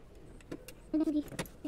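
Keys jangle in brief metallic bursts while a padlock is being worked open, with a few scattered clicks and rattles close by and no talking.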